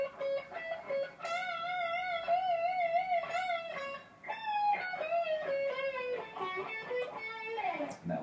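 Electric guitar plays a riff, with vibrato-laden string bends that rise and fall back to pitch, leading into a run of quick, clear notes, played alone and fairly loud.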